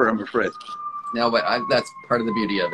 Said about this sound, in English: I apologize for the siren outside.